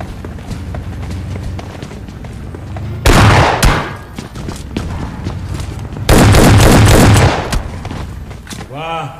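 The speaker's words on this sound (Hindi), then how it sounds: "यहाँ पे गॉड MCU को खत्म किया शॉटगन से" Shotgun blasts in a mobile battle-royale custom-room match come as two loud, sustained bursts of gunfire among quieter in-game sounds and footsteps. Each burst lasts under a second, and a rising chime plays at the end.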